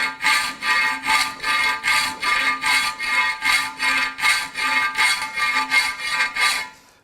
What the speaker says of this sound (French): je tiens la lime en bout et je pousse.